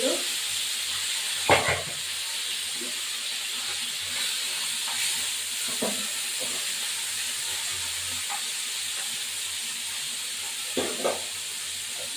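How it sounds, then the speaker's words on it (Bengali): Small morola fish fry in hot oil with a steady, even sizzle and hiss throughout, punctuated by a few brief spatters and utensil taps, close by with no talking. "দিয়ে মোরলা মাছগুলো ভাজি করব"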